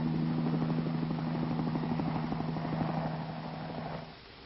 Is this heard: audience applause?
no